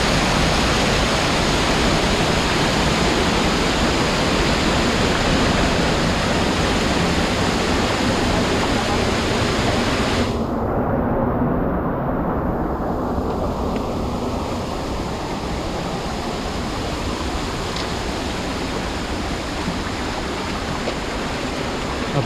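Loud, continuous rush of a fast-flowing river in Saklikent National Park, Turkey, a steady broadband roar that fills the whole clip without pause.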